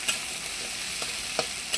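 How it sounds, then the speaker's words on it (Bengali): Onions browning in a pan for a Hyderabadi-style fish curry, a steady sizzle of frying with a few distinct scraping strokes of a spoon stirring them, close up and with no voices. "পেঁয়াজটা ভালো করে ব্রাউন করে ভেজে নেব"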